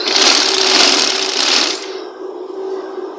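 A sewing machine stitches piping onto a neck design, a loud steady mechanical whir with a strong hum that runs for under two seconds, then drops to a quieter motor drone.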